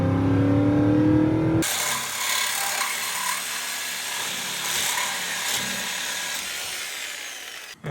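The rear wheels of a Chrysler 300C with a 5.7L HEMI spin on the drivetrain, making a steady, loud whirring drone that starts abruptly after a low rising tone and holds for several seconds before cutting off.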